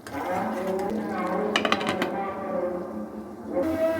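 A metal lid set onto a cooking pot of chicken rezala, a quick cluster of clanks and rattles partly under a speaking voice and kitchen background.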